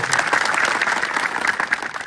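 Loud, dense applause from a crowd at a village political rally honouring the sarpanches, steady clapping filling the whole stretch without a break.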